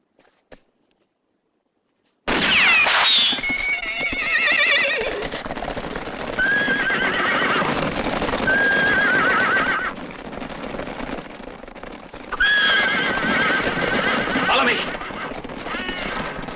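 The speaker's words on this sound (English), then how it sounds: "Hey, you see those horses?" Horses whinny loudly and repeatedly over steady clip-clopping hooves in a Western film scene, the neighs rising sharply above a busy, close soundscape after a short silence.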